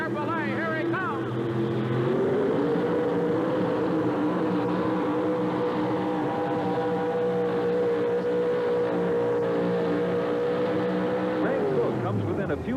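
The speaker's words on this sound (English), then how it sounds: "640 cubic inches of Chevrolet horsepower. It's the 1988 Chevrolet. Here he comes." A 1988 Chevrolet 4x4 pulling truck with a 640-cubic-inch engine roars at full power down a 175-foot pull track at a truck and tractor pull in Birmingham, a loud sustained engine drone that cuts off near the end, under an announcer's voice.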